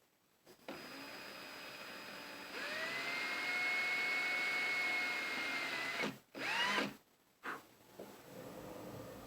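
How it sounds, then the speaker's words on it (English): Whining power drill boring screw holes in a mounting plate for a pneumatic frame, starting after a brief pause and running steadily for several seconds, then a few short stop-start bursts, close and loud. "where you're holding something that you're drilling into, be very, very careful that your fingers are out of the way"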